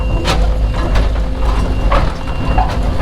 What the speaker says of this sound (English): idle it down a little bit, because I don't need to go on there that fast